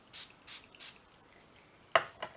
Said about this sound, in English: I'm going to just spray it on here.